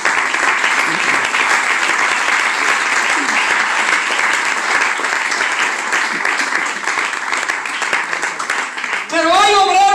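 A church congregation applauds loudly and steadily for several seconds before a voice breaks in at the very end.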